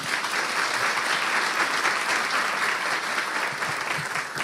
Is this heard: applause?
yes